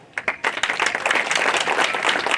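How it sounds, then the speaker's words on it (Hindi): Outdoor rally audience at a commemoration event clapping, beginning with a few scattered claps and swelling within half a second into dense, loud, continuous applause. "मेरे लिए ताली मत बजाओ।"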